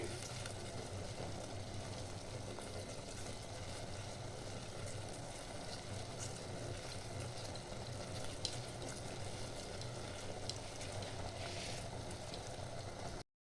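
Sugar syrup for ras malai simmers in a pot with a steady bubbling and hissing, continuous and even throughout, with no voices.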